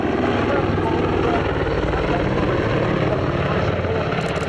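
An Army Air Corps helicopter at an airshow roars steadily and loudly close by, its engine and rotor noise filling the air without a break.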